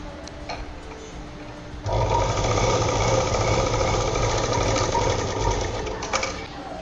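A sewing machine stitches two pieces of leftover blouse fabric together for a small purse. It starts after a short quiet moment, then runs as a steady, close, continuous whir to the end with no talking.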